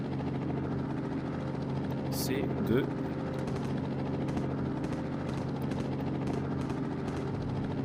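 A helicopter in a zombie-shooter VR game drones with a steady, close rotor and engine hum, joined by a brief sharp noise, while someone speaks briefly over it.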